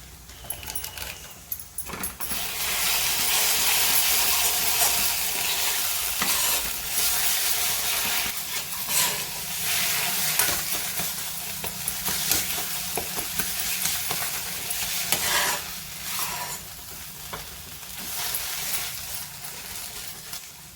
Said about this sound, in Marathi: हा ग्रेव्ही आपली छान असे परतून झालेली आहे